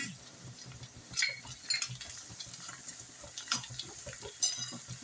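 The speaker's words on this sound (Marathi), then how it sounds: "आता मिरची घालूया आपण खडे मसाले जे आहेत ते आपण घालूया आता" Chillies and whole spices fry in a pan for gajar bhat with a quiet, close sizzle, broken by a few sharp scrapes and clinks of a spoon stirring.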